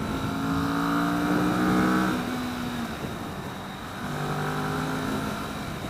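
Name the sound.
2015 Kawasaki Vulcan S motorcycle accelerating at full throttle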